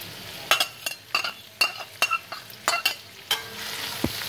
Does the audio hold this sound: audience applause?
no